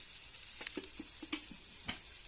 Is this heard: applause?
no